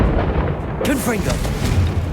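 Confringo blasting spell explosion in Hogwarts Legacy, a loud booming burst with a rumbling tail, heavy and close, with a character's voice speaking over it.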